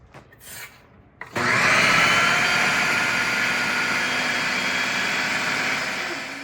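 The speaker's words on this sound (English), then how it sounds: "Puree again, but wait till the lid's on" After a few faint bumps, a blender kicks on abruptly and whirs loudly and steadily, a high motor whine that continues without letting up.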